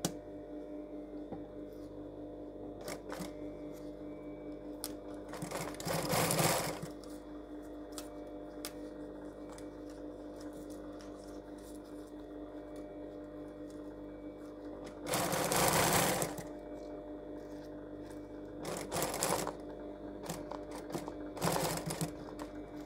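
Sewing machine stitching a trouser zipper seam, heard in short bursts of fast mechanical whirring separated by quiet pauses, close and fairly faint.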